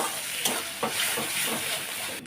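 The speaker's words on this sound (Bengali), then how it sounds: "মশলাটা ভালোভাবে কষা হয়ে গেছে তেল ছেড়ে দিয়েছে" Soybean masala is stir-fried in hot oil. A dense, continuous sizzle is heard up close, with a few brief scraping strokes of a spoon against the pan.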